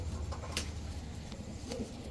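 A male pigeon, a Pakistani fancy breed, cooing softly in a low, rolling murmur, faint and close, against a quiet background hum.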